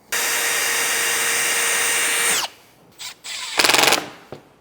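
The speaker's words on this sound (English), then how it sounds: "make sure that drill bit's going straight up and down" A power drill whines loudly at high speed for about two seconds while assembling a Sandy Vans Scout Layout bed frame, then winds down, followed by a few shorter bursts of drilling.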